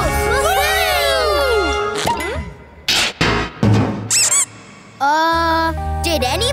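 Cartoon squeak sound effects, bright rising and falling squeaky chirps and clinks, come in short bursts between animated children's-show voices and music.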